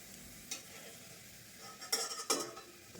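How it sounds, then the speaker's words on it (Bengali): Peanuts fry in a pan under a faint, low sizzle, punctuated by three short scraping clatters of a spatula against the pan, quiet and close, with no speech. "চিনে বাদামটা ভাজতে হবে ভালো করে"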